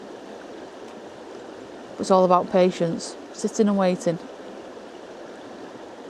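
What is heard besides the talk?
flowing stream water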